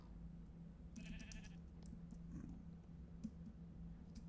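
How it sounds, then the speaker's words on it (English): A sheep in the video game Minecraft gives a short wavering bleat, quiet and brief over a steady low hum, followed by a few faint clicks. "I forgot that that was like a Technicolor sheep."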